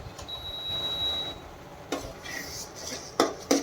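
A utensil scrapes and clinks against a pan while masala with salt is stirred for Kolhapuri misal, a few sharp metallic knocks near the end over a soft low background.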